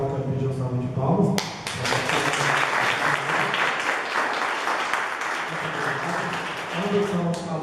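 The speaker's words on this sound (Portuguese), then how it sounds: "eu quero pedir uma salva de palmas" An audience claps loudly for the presenters at a student debate, a dense burst of applause that starts abruptly after a voice, holds steady for several seconds and then fades as talking resumes.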